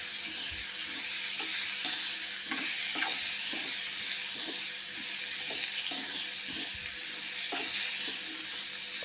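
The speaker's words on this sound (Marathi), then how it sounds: "त्याच्यामुळे आपण गवार छानपैकी परतून घेणार आहोत।" Cluster beans stir-fried in a hot pan give a steady moderate sizzle, punctuated by irregular scraping and tapping strokes of a spatula every second or so, with no talk.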